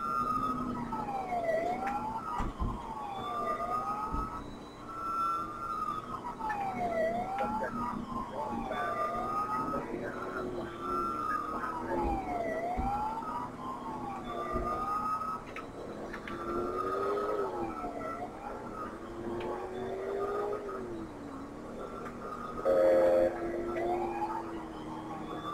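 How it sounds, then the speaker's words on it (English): Police car siren in the video game GTA IV during a night chase in a 1964 Chevy Impala, a loud wailing tone sweeping up and down repeatedly over engine noise, with brief bursts of game sound. "I guess my siren wants to work now."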